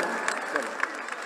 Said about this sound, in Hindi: एक बार और जोरदार ताली।